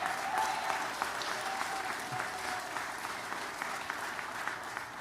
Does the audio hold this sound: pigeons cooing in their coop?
no